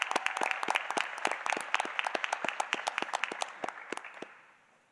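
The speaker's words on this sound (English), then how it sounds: "Let's give her a round of applause." A small audience at a Board of Education meeting claps for a student named Artist of the Month. The crisp, separate hand claps sound close and lively, then thin out and stop within the last second.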